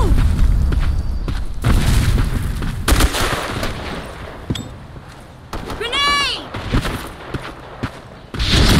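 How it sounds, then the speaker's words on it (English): Grenade blast in the online shooter Black Squad, a heavy boom among rapid gunfire and game effects, with a rising electronic chirp and players talking over the noise. "Grenade!"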